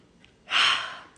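A single deep breath drawn in through the mouth, a close, breathy inhale lasting about half a second against quiet surroundings.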